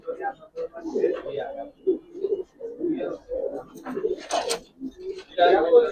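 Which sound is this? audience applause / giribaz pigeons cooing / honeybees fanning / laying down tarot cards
giribaz pigeons cooing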